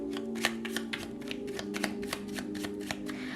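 Tarot cards being shuffled by hand: a quick, even run of crisp riffling flicks, close and fairly quiet, with no voices over them.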